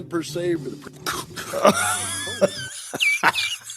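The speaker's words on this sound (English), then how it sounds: "He started coughing before the bug got to his mouth" A man coughing in a podcast recording: a few short, harsh coughs and throaty rasps, close and loud, mixed with voiced wheezy sounds.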